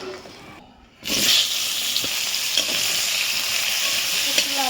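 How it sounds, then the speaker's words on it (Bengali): Eggplant frying in hot oil for a fish curry, a loud steady sizzle that bursts in after a brief quiet moment and crackles on with occasional pops. "একটু লাল করে বেগুনটা ভেজে নেব।"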